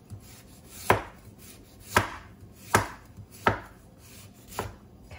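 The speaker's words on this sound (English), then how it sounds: "carrot is very hard to cut, because it's so dense." A knife chops through a dense carrot on a cutting board with five distinct, evenly spaced crisp thuds about a second apart, close and fairly quiet, with no talking.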